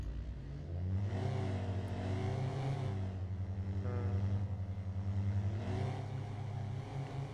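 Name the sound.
car engine revving after repair, from a video game (Martinique RP)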